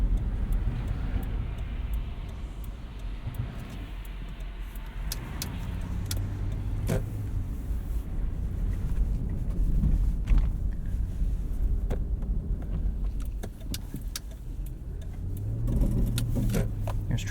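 Steady road noise from a Lexus GX 460 on Cooper Discoverer AT3 4S tires pushing through slush on a snowy centre lane, a continuous low rumble and wash with a few faint clicks inside the cabin.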